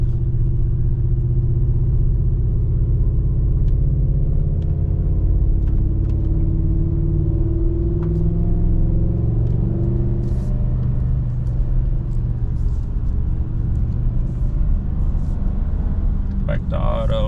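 A Ford Super Duty pickup with a non-diesel engine, towing a heavy load in four-wheel drive and first gear, spins its tires on a hill, giving a steady loud low engine rumble and drone throughout with occasional faint clicks and a voice at times.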